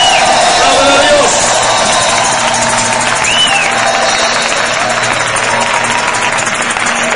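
Church congregation applauding in praise at a Spanish-language religious service, a steady sustained wash of clapping and crowd noise filling the space for the whole stretch.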